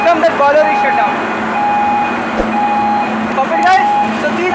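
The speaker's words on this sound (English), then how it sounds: "See the flame extinguished and alarm has come that boiler is shut down." An industrial boiler's flame failure trip alarm sounding a steady, repeating high electronic tone in short bursts, loud over the roar of plant machinery, with someone talking through it.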